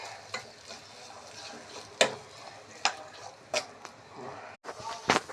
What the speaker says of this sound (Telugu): ఇప్పుడు పచ్చిమిరపకాయ వేసుకున్నాను. దీన్ని బాగా వేపుకోవాలి.